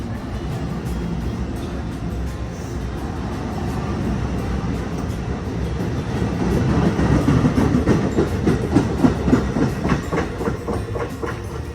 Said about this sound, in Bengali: একটা ফাঁকা ট্রেন চোখের সামনে দিয়ে চলে গেল